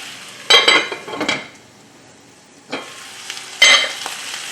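Zucchini cooking in a pot with a lid, heard up close: a low steady sizzle under three sharp bursts of metallic clattering and scraping as the pot and lid are handled, with no talking.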